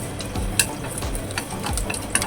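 Ginger and rock sugar sizzling in a little hot oil while being stirred in a pan for Chaoshan-style braised chicken wings, a steady close frying hiss broken by a few scraping stirs and clinks.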